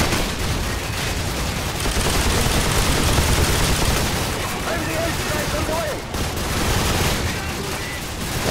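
Dense, continuous gunfire in a PC multiplayer shooter, with overlapping shots and booms that stay loud for the whole stretch, only briefly dipping once.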